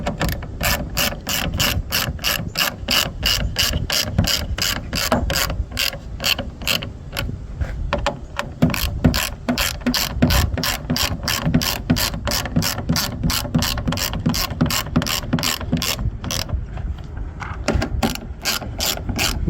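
A ratchet tightening screws during a rear backup camera install on a Mercedes-Benz, with a rapid, steady run of sharp clicks repeating close up for the whole stretch, with no talking.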